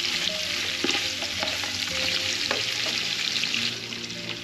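Meat searing in a hot pan for an Extremadura chickpea stew, a continuous close sizzle and crackle with faint stirring clicks, steady and fairly loud, with no talking.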